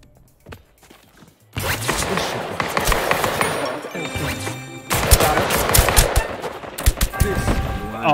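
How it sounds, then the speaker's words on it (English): Sustained bursts of rapid gunfire in the multiplayer spy shooter Deceive Inc., dense and loud for several seconds with a brief lull in the middle, following a quiet opening. "I was getting shot from the side"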